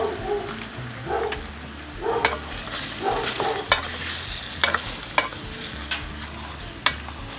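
Steady sizzling and crackling from a hot pan sautéing beef skin with fish sauce, with occasional clanks and scrapes of a utensil stirring, close and fairly loud.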